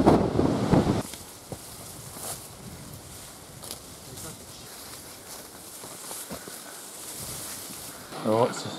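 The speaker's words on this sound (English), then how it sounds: "There's that bloody wind just coming in a gust like that." A gust of wind buffets the microphone outdoors on a hunting range, a broad rushing roar that swells and fades, with a voice speaking briefly at the start and end.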